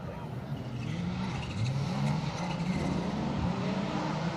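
A Chevette rally car runs a stage at Snetterton circuit, its engine note rising and falling as it accelerates and changes gear, with loud, close revving and a brief tire squeal under commentary.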